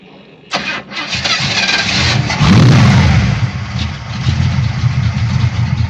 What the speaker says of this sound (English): You can get some fuel to this Pontiac 400, and we'll just crank it on up.